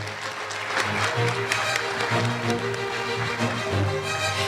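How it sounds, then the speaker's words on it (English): Applause from the audience at a sports awards ceremony, a steady mass of clapping at moderate level with some voices and a low hum mixed underneath. "Another round of applause for Monique Archer."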